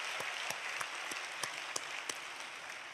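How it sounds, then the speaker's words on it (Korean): A church congregation at a special year-end dawn prayer service claps steadily, soft and somewhat distant, with a faint regular beat of louder claps and no talking. "우리 성교국을 위해서도 박수 한번 치겠습니다."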